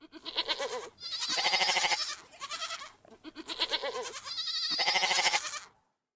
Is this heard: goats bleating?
yes